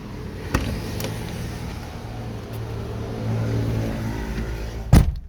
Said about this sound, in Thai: ผมสตาร์ทเครื่องให้ดูดีกว่าว่า ว่ามันจบไหม